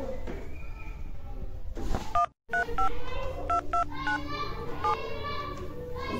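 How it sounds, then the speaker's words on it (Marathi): A telephone is dialed with a quick series of distinct keypad tones, about eight beeps spaced irregularly after a brief pause. People talk over and around the dialing. "मी दादाला फोन करतो"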